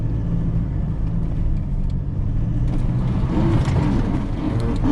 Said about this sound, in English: I'm going to drive his car through the mud.